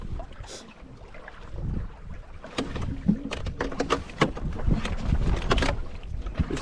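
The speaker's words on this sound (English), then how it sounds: "Wind assisted, sail assisted. Pretty easy paddle." Canoe under sail across a windy lake in Algonquin Park, with steady wind rush buffeting the microphone and intermittent splashes and knocks of water against the hull.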